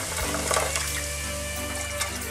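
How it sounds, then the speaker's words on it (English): Coca-Cola pours steadily into a cooking pot as the base for braising Japanese kakuni pork belly, a continuous, close liquid rush with no talk. "Fill the Coca-Cola in the pot."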